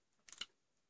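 Someone clicks on a laptop nearby in a quiet room, a faint, brief cluster of four or five light taps in quick succession, then stillness.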